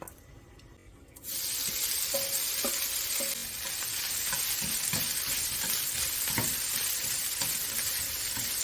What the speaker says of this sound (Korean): 팬에 식용유를 두르고 볶아 먹습니다